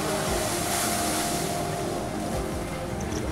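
A DUKW amphibious vehicle from World War II moves through water with a steady, loud engine drone mixed with churning water and wind noise, with no break.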